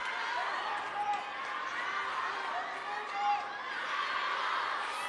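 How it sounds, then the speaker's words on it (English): Table tennis match crowd at a WTT Hong Kong 2025 men's singles semifinal, cheering and calling out for Lin Shidong. A steady roar of spectators with brief swells of shouting. "Crowd doing all they can, those supporting Shidong, of course, to really get him going."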